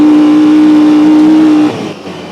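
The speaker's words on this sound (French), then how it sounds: "Alors, on va mettre un peu de gaz là, il y a un petit bout de ligne droite" A side-by-side SSV with an engine of over 100 horsepower accelerates along a short straight, a loud steady engine drone that holds, then drops away near the end.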